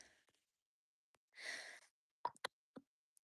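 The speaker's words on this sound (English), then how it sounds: "Oh my gosh, I gotta sneeze." A single breathy sneeze, close and sudden, followed by a few short sniffs and clicks in otherwise quiet surroundings.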